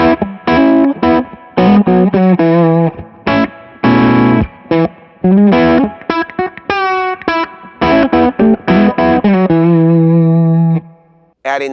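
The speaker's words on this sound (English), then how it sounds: "I'm going to set up a nice distortion sound with this" Electric guitar through an Ultraphonics HRM distortion pedal plays a loud, choppy riff of short staccato stabs and a few held notes, gritty and saturated. A brief bend comes in the middle, and no voices are heard over it.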